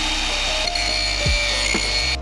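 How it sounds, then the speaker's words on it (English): A power grinder scrapes the coating off a metal dually RV frame, a steady harsh whine with a couple of brief scraping catches, loud and close and continuous with no talking. "So I'm just going to grind a little bit right here"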